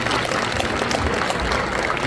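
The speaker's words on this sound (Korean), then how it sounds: "크게 다시 한번 박수 주시기" Sustained applause from a church congregation at an Independence Movement Day memorial service, steady and dense throughout.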